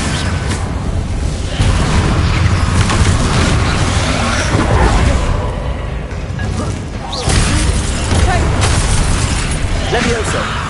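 Confringo fire spell explosions in the Hogwarts Legacy video game boom and burst in a loud, dense, continuous barrage of combat, with a voice shouting over the blasts.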